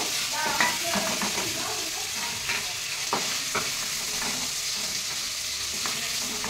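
Dry red chillies and bay leaves spit and crackle in hot oil left from frying prawns, a dense steady sizzle with occasional stirring clicks, close by and without voices.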